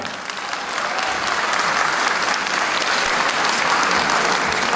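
Audience applause at a management school's Zest and Dandiya 2014 event, a dense, loud, continuous wash of clapping from a large crowd, sustained evenly throughout.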